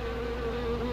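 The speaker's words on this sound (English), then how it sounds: "This isn't a honeybee. These are wasps." Wasps buzzing in a close, steady, loud drone with a sustained whining tone, heard alone without talk.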